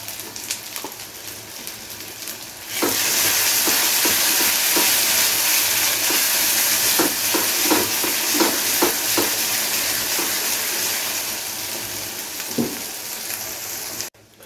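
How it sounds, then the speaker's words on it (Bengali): Ginger, garlic and onion sizzle steadily in a hot pan, loud and close, with repeated scraping clicks from stirring throughout before the sound cuts off abruptly. "আদা রসুনটাকে পেঁয়াজের সাথে খুব ভালো করে ভেজে নিয়েছি"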